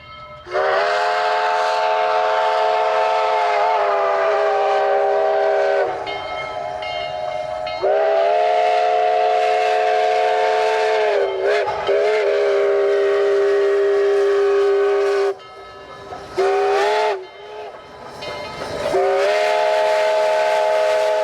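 Central of Georgia 699 steam locomotive passing at speed, its loud chime whistle blown in long repeated blasts, with short breaks between them and the rumble of the train underneath.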